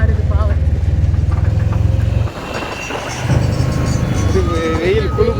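A vehicle rattling and shaking as it drives along a road on the way to fetch a bull, its engine droning steadily, with a loud rhythmic rumble that drops away midway, while voices talk nearby.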